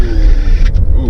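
Power window motor whirring as the glass rolls up in a classic Mercedes W124, a loud, close mechanical hum with road rumble beneath and a brief click partway through.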